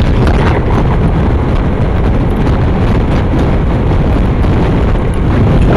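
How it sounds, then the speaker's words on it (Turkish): Loud, rough wind roars and buffets continuously against a motorcycle helmet microphone on a road, turbulent behind a large vehicle, with uneven gusting pulses and a deep rumble underneath. "çok düzensiz rüzgar vuruyor"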